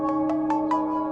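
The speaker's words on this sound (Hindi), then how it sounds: "नूर का ही फोन आ गया।" A phone rings with an incoming call, four short evenly spaced electronic tones over a steady hum, clear and close.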